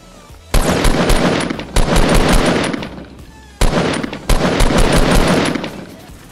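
M16 assault rifle fire in Fortnite Battle Royale: four loud sustained bursts of rapid automatic shots, close and dominant, separated by short pauses.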